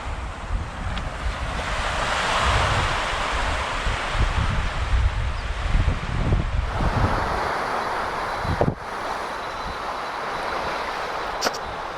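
Waves wash steadily onto a beach below cliffs at Hovs Hallar, Sweden, with a constant roar of surf, mixed with gusty wind buffeting the microphone.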